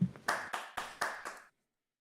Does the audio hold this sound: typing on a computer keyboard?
no